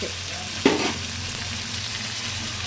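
Brinjal pieces frying in oil in a pan, a steady soft sizzle with one brief clatter of stirring near the start, faint and continuous.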